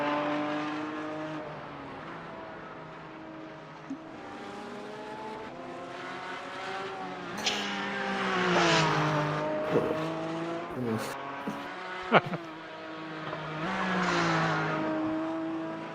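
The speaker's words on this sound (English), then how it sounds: "I'd never trust the engine noise" Race car engine from a sim racing game at the Nurburgring 24, a continuous harmonic drone that rises and falls with throttle and gear changes, with brief sharp spikes, steady and fairly loud throughout.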